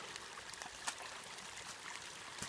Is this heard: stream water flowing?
yes